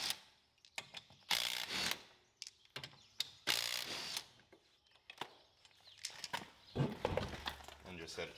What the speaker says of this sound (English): My little 3/8 snap-on impact takes these off no issue.